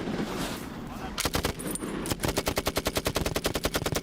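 A light machine gun firing blanks runs away in a rapid, continuous, uncontrolled burst, loud and close, after a few earlier scattered bangs.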